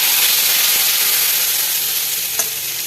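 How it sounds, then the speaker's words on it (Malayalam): Hot tempering poured into a pot of sambar sets off a loud, steady sizzle and hiss that fills the whole stretch, with a brief clink near the end. "നമ്മൾ വറവ് ഇതിലേക്ക് ഒഴിച്ചാളട്ടോ"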